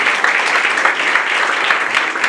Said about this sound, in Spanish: démosle fuertes palmas a este matrimonio en esta hermosa tarde